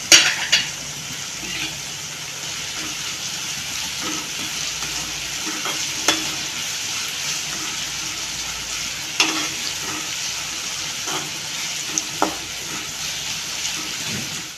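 Two sticks of cinnamon, poppy seeds and fennel fry in hot oil for a Kerala-style chicken curry, a continuous sizzle marked by regular clinks and scrapes of a spoon stirring the pan.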